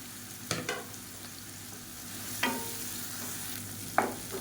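Chopped onions and six green chilies with salt sautéing in a pan for chutney, a soft low sizzle broken by three brief scraping stirs of a spoon.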